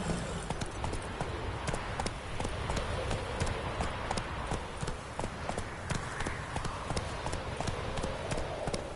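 Horse hooves clip-clop steadily at a riding pace in a PS4 game, a close, even rhythm of sharp clacks that runs throughout over a dense background bed.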